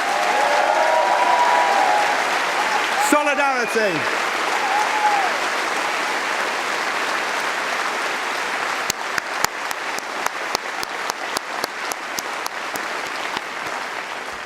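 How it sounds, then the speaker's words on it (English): A large political conference hall fills with sustained applause from delegates, a broad, even roar of clapping with a shouted call and a few sharper individual claps near the end. "Conference, let's give them a round of applause."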